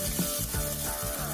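A coconut mixture sizzles steadily in hot coconut oil while being stirred for a rice chottappam, a brief, soft frying hiss.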